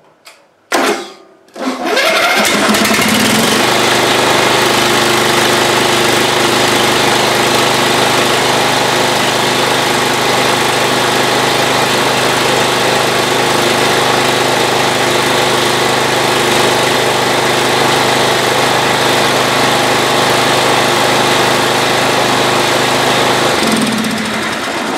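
An old Ariens small engine sputters briefly, then catches and runs at a steady, loud, buzzing idle close by for over twenty seconds before easing off at the end.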